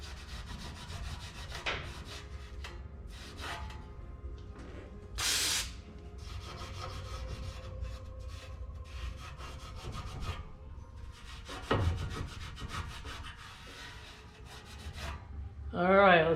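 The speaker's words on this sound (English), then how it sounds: "Try to wipe off a little bit more of the grease." A rag rubs grease off a metal part of a 1958 Chevrolet Apache shop truck, making soft, close scrubbing strokes in irregular bursts with occasional knocks and brief noises.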